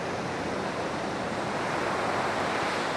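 Ocean surf rolling in at Kuta beach in Bali, a dense continuous wash of breaking waves heard from nearby, steady and fairly loud with no voices.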